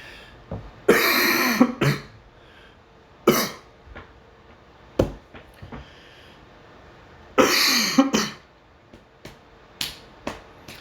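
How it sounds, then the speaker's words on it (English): Repeated coughs and throat clearing from a person at home, in several separate loud bursts with short single coughs between them, close to the microphone and without any talking. "I'm in my own house, so I can cough as much as I want to."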